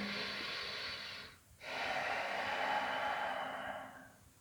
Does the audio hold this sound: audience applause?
no